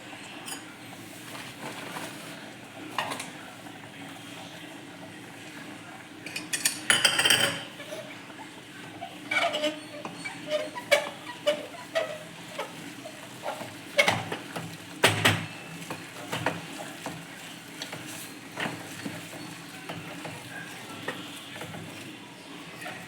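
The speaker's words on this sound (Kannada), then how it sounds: "ಜೋಳದ ಹಿಟ್ಟು ಹಾಕೋತಾ ಇದ್ದೀನಿ ಮುದ್ದೆ ಕೋಲಲ್ಲಿ ಮಾಮೂಲಿ ಮುದ್ದೆ ಮಾಡ್ತಾರಲ್ಲ ಹಾಗೆ ಮುದ್ದೆ ಮಾಡ್ಕೋಬೇಕು" Jowar flour being stirred into boiling water with a wooden mudde stick, giving soft, irregular scraping and thick stirring strokes against the pot, with a few louder clunks, close up and without talk.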